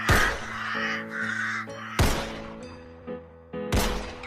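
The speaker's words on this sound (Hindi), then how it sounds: "कौवे भागे शोर मचाते काय काय काय" Crows caw loudly in three harsh bursts with short gaps between them, close and clear, mixed with a children's nursery rhyme backing of sustained musical tones.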